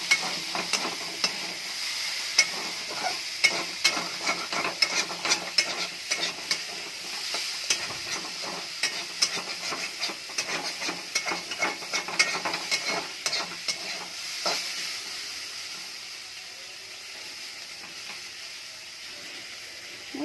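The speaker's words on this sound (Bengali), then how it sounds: "এটা আলু উচ্ছে ভাজা হচ্ছে" Potatoes and bitter gourd fry in a pan. A steady close sizzle runs under busy clinks and scrapes of stirring, and the clatter thins out into a quieter, even hiss near the end.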